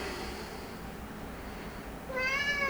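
A house cat named Jonesy meows near the end, a clear rising call of about a second after a stretch of quiet indoor room tone.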